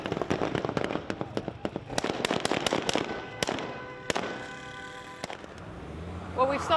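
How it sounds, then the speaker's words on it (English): Sustained gunfire erupts in a rapid, irregular burst of sharp cracks at a fighting position up ahead in Iraq, loud and close, then thins out into scattered shots with voices in the background. "There was a sustained outburst of gunfire at the position up ahead."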